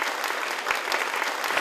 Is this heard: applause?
yes